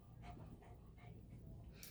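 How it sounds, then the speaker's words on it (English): A dog pants softly indoors at bedtime, a faint, steady rhythm of quick breaths repeating about every half second under low background hiss. "if you guys hear noise, that's my dog."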